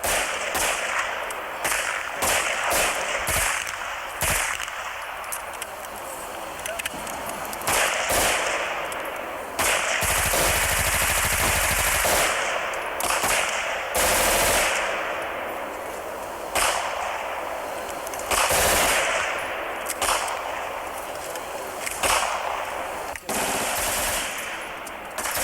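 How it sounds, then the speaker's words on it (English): A gun concealed inside a closed briefcase firing in bursts, sharp repeated cracks and rattling volleys spread across the stretch with a longer sustained burst in the middle, loud and close, with faint voices at times. "to fire it, you'd have the case closed, tuck it up under your arm, pull the trigger."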